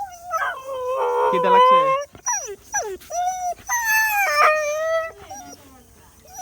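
A dog whines and howls for food in long wavering cries, close and loud, with a person talking over it between the howls.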